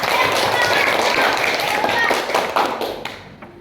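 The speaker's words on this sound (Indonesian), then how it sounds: "Tepuk tangan dulu tak?" Classroom of students applauding during a lesson, a thick wash of clapping that runs steadily and then tapers off, with voices mixed in.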